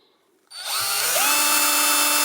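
A power drill spins up sharply and keeps whining at a steady high pitch while drilling through wood over a chopping board, loud and close, with no speech.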